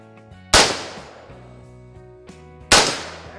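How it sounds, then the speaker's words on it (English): Two loud gunshots from an Eagle Arms AR-15 rifle ring out about two seconds apart, each a sharp crack followed by a long metallic ringing decay from the struck steel target. "One steel, one bullet is hit."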